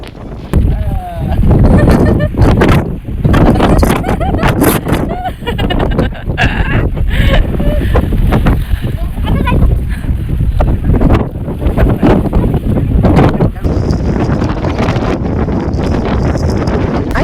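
Strong gusting wind buffets the microphone on a hilltop near the Karnala bird sanctuary, loud roaring blasts rising and falling in irregular surges throughout, with no talk over it.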